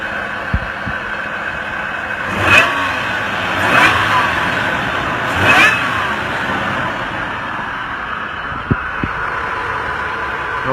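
A Toyota engine with a TRD supercharger bolt-on kit at 8.5 psi and full exhaust idles with a steady drone, then revs up three times in quick, even blips before settling back, with a few sharp clicks near the end.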